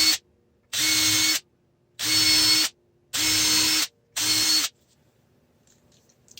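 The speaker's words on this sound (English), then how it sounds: "It's important that you drill pilot holes for these because you're going into finished material." Four bursts from a power drill boring pilot holes into a finished wood box for a piano hinge, each about half a second long with short pauses between, loud and close.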